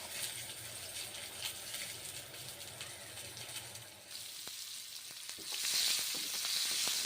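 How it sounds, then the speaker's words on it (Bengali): Chopped onions dropped into hot oil and stirred, a steady low sizzle that swells into a brighter, louder crackle near the end with a few spatula taps, close and without speech. "গরম তেলে ছেড়ে দিলাম পেঁয়াজ নেড়ে চেড়ে ভেজে নিচ্ছি"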